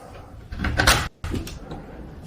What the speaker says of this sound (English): This is my door lock.